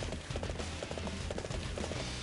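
Horse hooves clip-clop in a steady galloping rhythm while riding in Dynasty Warriors 7, quick repeated thuds under game music.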